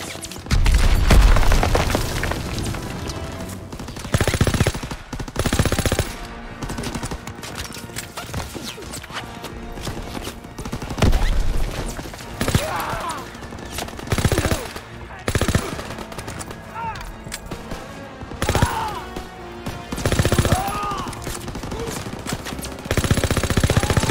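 Machine gun fire in a World War II D-Day battle in Call of Duty WWII, loud rapid bursts mixed with gunshots, booms and battlefield chaos throughout, with shouting voices at times.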